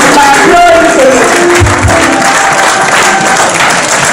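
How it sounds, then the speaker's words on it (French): An audience in an evangelical church applauds at its official opening, giving steady, dense clapping that fills the room, with a voice faintly heard over it. "Can you encourage me by applauding for me?"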